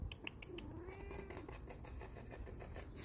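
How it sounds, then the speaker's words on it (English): A cat meows once with a soft, rising-falling cry, fairly close, amid faint room noise and light rustling. "Kitty, kitty, kitty, kitty, kitty."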